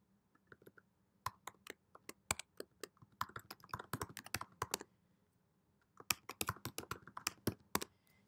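Someone types a username and password on a computer keyboard: bursts of crisp, close key clicks in irregular rhythm, with a short pause midway and no talking.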